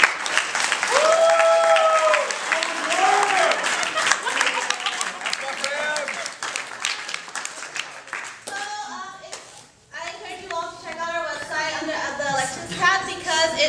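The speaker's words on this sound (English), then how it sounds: "So again, I guess another round of applause for it" An audience applauds after a student presidential platform presentation, brisk clapping for several seconds that thins out, followed by people talking nearby.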